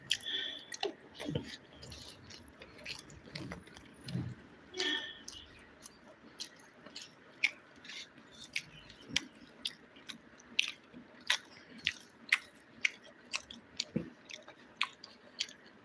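Close chewing and biting of fried chicken, with repeated crunchy bites and wet mastication in an irregular rhythm, soft clicks between, and no talking.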